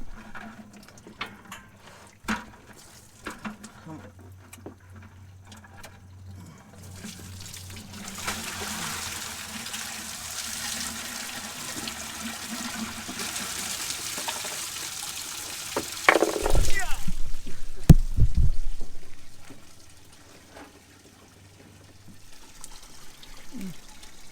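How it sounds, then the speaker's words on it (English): Sludgy old coolant pours and trickles steadily out of the radiator of a 1988 IH scissor lift's diesel engine, a continuous wet rush that swells, then cuts off, with a low engine hum in the background. "we're going to drain the coolant out"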